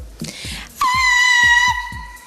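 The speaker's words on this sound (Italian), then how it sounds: "Mi fai un urlo?" Woman's long, high-pitched sustained scream, given on request at a singing audition during a pub festival, loud and close, rising out of quiet breathy sounds and fading gradually.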